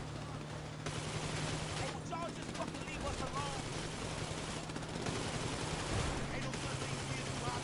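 Gunfire in GTA V Online during a mission: scattered bursts of shots, fairly quiet and distant, under a constant game rumble, with people talking throughout.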